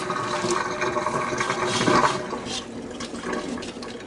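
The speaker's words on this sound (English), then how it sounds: "I've had my beans soaking overnight. That's those. So I'm going to just kind of drain those off." Water draining off beans soaked overnight, a steady close rush and gurgle of pouring liquid lasting several seconds, with no voices.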